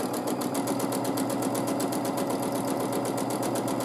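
A sewing machine stitching dense swirl quilting lines over a quilted feather, running at a fast, even clatter of rapid needle strokes, close and steady without pause.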